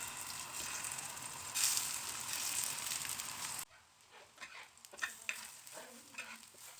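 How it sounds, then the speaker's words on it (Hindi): Chicken shami kababs fry in a pan with a bright, dense sizzle for several seconds, then the scene cuts abruptly to quieter soft clinks and scraping. "यहाँ पर शामी को करते हैं फ्राई।"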